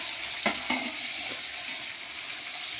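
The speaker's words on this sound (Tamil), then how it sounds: "கொஞ்சம் ஃப்ரை ஆனவுடனே நம்ம வெங்காயம் அதில் சேர்த்துடணும்." Cumin and garlic sizzle in hot oil with a steady frying hiss, a few soft stirring knocks on the pan as onions go in.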